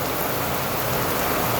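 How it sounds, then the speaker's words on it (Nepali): Rain falls steadily and close by, a dense, even roar of drops on surfaces with no voices or pauses. "आकाशको पानी परेपछि"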